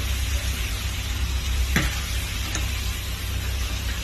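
Vegetables for ginataang kamansi sizzle steadily in a hot pan, a constant frying hiss with a brief scrape of stirring partway through, heard up close with no talking.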